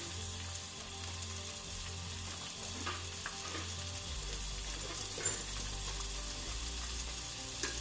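Rice and eggs added to vegetables frying in a pan, a soft steady sizzle with a stir and a deeper frying hiss starting partway through, with no voices.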